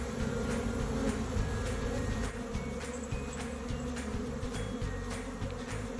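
Dense, steady buzzing of a honeybee colony swarming around hive frames during a beekeeping inspection, close and continuous with a low hum underneath.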